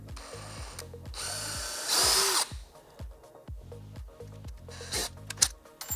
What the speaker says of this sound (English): we have our marked spots where we are going to drill